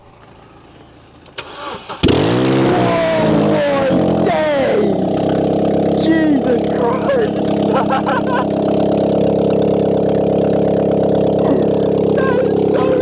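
A Corsa C track car fires up after a short cranking whine, then idles and revs very loudly and close, its throaty roar steady to the end while people shout in astonishment over it.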